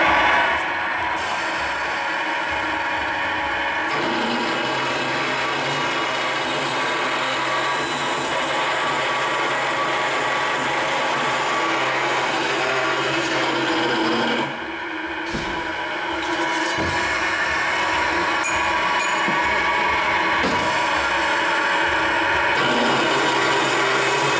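A Scotchman CPO 315 HFA cold saw runs a trim test cut, a steady loud mechanical whir and grinding with a brief dip partway, continuous and close.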